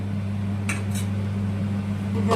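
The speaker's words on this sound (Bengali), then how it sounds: "আমি ঢাকনাটা খুললাম" A metal lid comes off a cooking pot of simmering mutton kasa spices, two quick bright clinks over a steady low hum of the stove, then another faint clink at the end.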